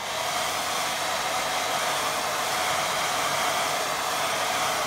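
A hair dryer blows steadily on wet watercolour paint, a loud, even whooshing hiss held close without a break and with no talking.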